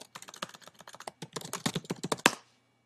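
Rapid clattering keystrokes on a computer keyboard, close and distinct, in a quick irregular burst that ends with a final firmer tap before silence.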